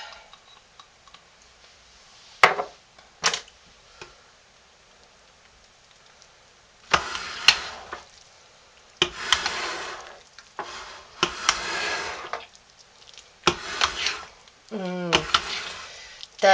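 A spatula scrapes hot process cedar wood and tea tree soap out of a crock pot in short, separate rasping strokes, close and fairly quiet, with a voice speaking between some of them.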